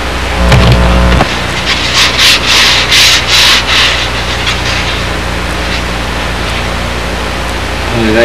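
Hand sanding of a wooden part, dressing one side a little at a time, with loud repeated rasping strokes in a rough rhythm and a brief low tone near the start.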